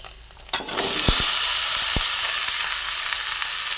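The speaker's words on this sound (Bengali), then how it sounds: "ভেজে নিতে নিতেই এর মধ্যে কুমড়োগুলোকে আমি ঢেলে দিচ্ছি" Pumpkin pieces tip into hot oil with ginger and burst into a loud, steady sizzle that holds for several seconds, with a couple of sharp clanks of a utensil early on; nearby and no voices.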